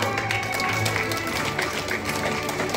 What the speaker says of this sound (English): Let's give them a clap po.